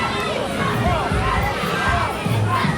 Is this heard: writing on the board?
no